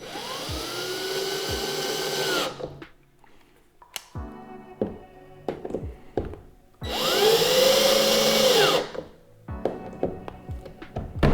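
A power drill fitted with a Phillips bit drives screws in two loud whirring bursts that rise and fall in pitch, separated by quieter stretches of tapping and knocking on a fishing kayak.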